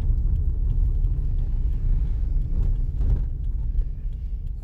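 A car engine hums low and steady from inside the cabin during a driving lesson as the accelerator is pressed, the rumble swelling slightly without any talk.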